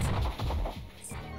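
A Close Combat attack lands in the Pokémon Reborn battle, a rapid burst of heavy, punchy impact hits thumping one after another for over a second, loud and close with no talk over it.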